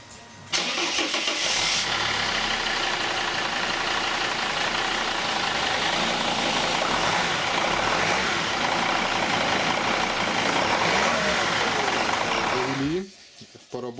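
A Mercedes W210 E270 CDI diesel, freshly refilled with oil, starts up and idles with a steady mid-pitched clatter, close and continuous for most of the stretch before cutting off near the end.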